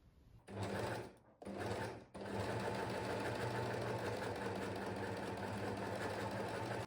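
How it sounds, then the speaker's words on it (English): An overlocker runs along the hem edge of a dress, starting with two short bursts separated by brief pauses, then settling into a steady, fast mechanical whirr, close and fairly loud. "I'm going to overlock along this edge now"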